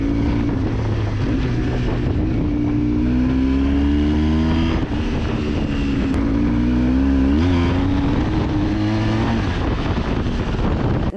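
A loud vintage Yamaha Super Ténéré 750 motorcycle engine idles and revs, its throbbing tone rising and falling in pitch, steady and close with wind buffeting the microphone.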